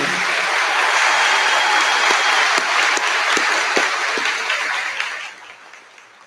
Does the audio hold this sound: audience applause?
yes